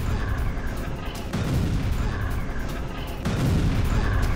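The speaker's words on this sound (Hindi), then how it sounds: "देखिए पूर्वी जमालिया में भीषण बमबारी" Heavy bombardment in eastern Jabalia, Gaza, heard as repeated deep booms layered over a continuous low rumble, loud and dense, with fresh blasts swelling near the middle and end.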